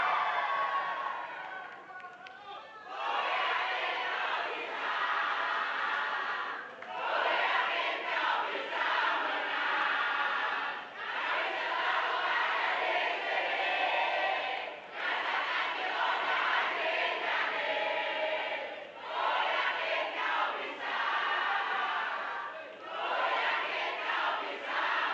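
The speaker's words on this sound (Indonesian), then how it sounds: "mana suara dari tim pendukung paslon nomor urut 2?" Supporters of candidate pair number 2 at a South Kalimantan gubernatorial debate chant and cheer loudly as a crowd, in repeated surging bursts with short dips between them, sustained throughout.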